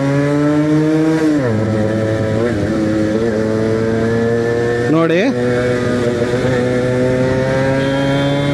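A Suzuki Shogun motorcycle engine runs steadily after a downshift, giving a close, loud two-stroke drone with pitch dips and rises as the throttle changes around the one- and five-second marks.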